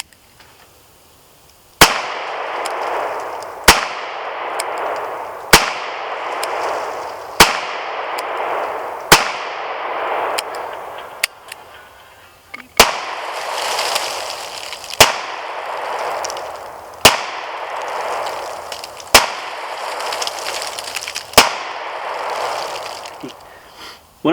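Taurus 905 9mm revolver fired repeatedly outdoors, about twelve sharp, loud reports at an irregular pace of roughly one to two seconds apart, each followed by a short ringing decay, with no talking.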